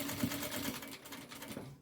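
A sewing machine runs a seam all the way around, heard as a close, steady mechanical hum that holds for nearly two seconds before trailing off.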